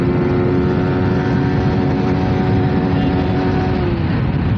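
A Yamaha R15 V4 BS7 and a TVS Apache RTR 160 2V BS6 race on a highway expressway, one engine holding a loud steady high drone that dips near the end.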